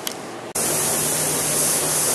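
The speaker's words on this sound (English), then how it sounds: "we'll come back and start spraying some color" After a brief quiet moment, a loud, continuous hiss of spray begins abruptly and holds steady, a paint gun spraying color coats onto a Z71 truck close by.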